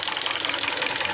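A 2012 Hyundai Sonata engine running on gas knocks while being revved, producing a rapid, steady mechanical clatter over the engine drone at close range.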